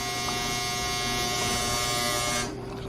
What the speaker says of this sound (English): Sorry for that sound back there. It's my dryer